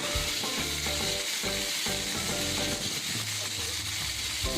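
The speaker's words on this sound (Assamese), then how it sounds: "এইখিনি মই কালাৰটো চেঞ্জ নোহোৱালৈকে মই ভাজি থাকিম।" Chopped onion frying steadily in hot oil with cumin and bay leaf for an Assamese egg and potato curry, a loud continuous sizzle with stirring scrapes and thumps throughout and no talk.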